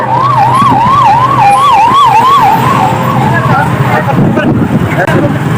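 A wailing ambulance siren rises and falls in a steady rapid cycle, loud and close amid road traffic noise, fading into engine rumble after a few seconds.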